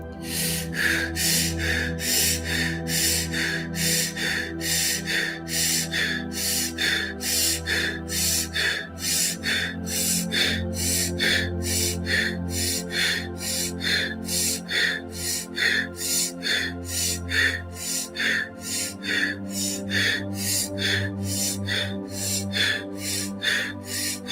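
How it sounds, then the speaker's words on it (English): Fast, forceful breathwork breaths taken in a steady rapid rhythm, sharp nasal-sounding inhales and exhales repeating about every half second, close and loud over a low droning music bed. "Let's move into some faster breaths now for 2 minutes, just to shake up the cobwebs"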